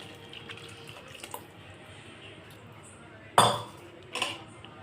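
Thick tamarind water is poured into a simmering brinjal gravy in a home kitchen, a short splashing pour standing out against quiet background clinks, followed a moment later by a second, softer splash.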